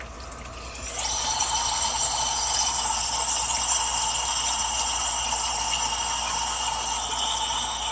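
A loud, steady hiss of steam bursts from a pressure cooker after a short quieter start and keeps rushing evenly, close by, with no talking.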